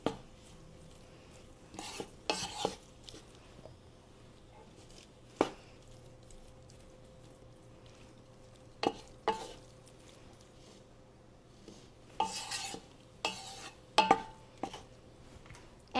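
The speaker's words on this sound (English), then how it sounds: "Break up that beef in the pot. Don't let it stick too much." Beef being broken up and browned in a pot on a home stove: a spoon scrapes and knocks against the pot in scattered clacks over a faint steady sizzle, close and fairly quiet.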